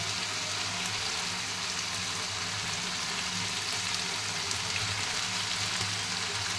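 Turmeric and chili powder fry with meat and ginger-garlic paste in a pan, giving a steady, even sizzle and crackle throughout, close and moderately quiet, with no talking.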